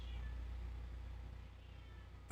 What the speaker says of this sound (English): cat is meowing